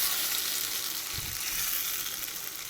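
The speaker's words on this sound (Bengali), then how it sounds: "তেলটা দেখো আমার গরম হয়ে গেছে, এরপরে এই যে বাটাগুলো আমি আস্তে করে ছেড়ে দেবো" Ground spice paste drops into hot oil in a pan, giving a continuous bright sizzling hiss with a single soft low thump partway through as the paste lands.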